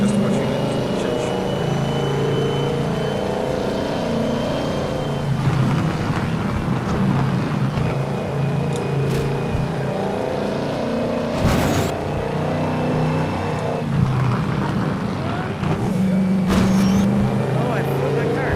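A racing car's engine in the VR driving game FlatOut 4: Total Insanity drones and revs steadily, with shifting whines and rumbles throughout, while people talk over it.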